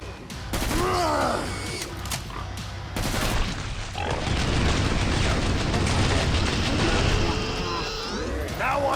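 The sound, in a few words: SA80 L85A2 bullpup rifle gunfire in Killing Floor 2 video game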